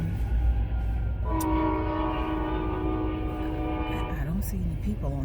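A train rolls past with a rumbling, rattling roar, and its horn sounds a long, steady blast partway through, loud and fairly close, then fades.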